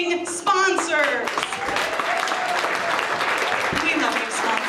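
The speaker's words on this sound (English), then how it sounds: "Please join me in a round of applause for all of our amazing sponsors." An audience breaks into sustained applause with scattered cheers, a voice calling out briefly at the start over the clapping.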